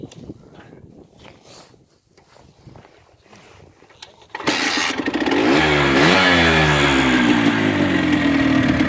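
After quiet shuffling, a Hercules XE 9 moped's small two-stroke engine kicks into life with a sudden loud start, then revs up and down before holding a steady, buzzing idle close by.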